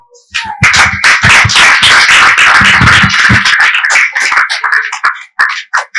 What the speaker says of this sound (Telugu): ఇప్పుడు చప్పట్లు కొడదామా?